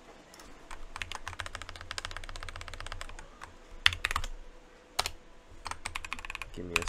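Rapid clicking of keys on a computer keyboard as a password is typed into a terminal, a steady near patter with a few louder strokes and brief pauses, no talk.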